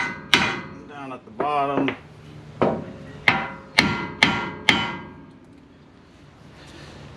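A steel hammer strikes a rusted ball joint on a 2008 Ford F-250 about six times, each sharp metallic clang ringing briefly. Someone speaks briefly near the start, and the taps come in a loose, uneven rhythm, close and loud.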